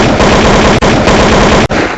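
A PUBG gun sound effect plays as loud, continuous automatic rifle fire, a rapid stream of close shots broken by two split-second pauses.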